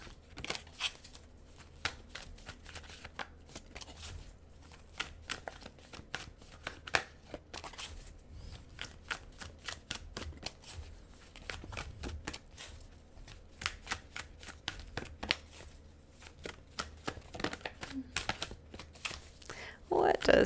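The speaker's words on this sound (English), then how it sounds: "I like the cards to come out authentically, so sometimes the shuffling takes a little bit longer." Oracle cards shuffled for a monthly tarot-style reading, producing a long run of quick, dense papery riffles and flutters that continue steadily, fairly faint and close, with a slightly louder burst at the end.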